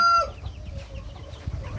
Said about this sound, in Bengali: এখানে অস্ট্রেলাপ মুরগির বাচ্চা আছে